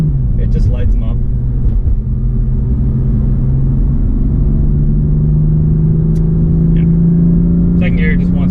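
A tuned Stage 1 BMW M4 F82 accelerates hard, its exhaust droning loud and close with rising engine pitch through the gears, while someone talks over the steady roar inside the cabin.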